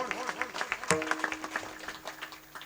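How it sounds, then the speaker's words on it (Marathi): An audience at a Marathi kirtan claps, a fairly quiet patter of hands with scattered distinct claps that fades gradually, with a voice talking over it. "आता जशी मनमोकळी टाळी वाजली"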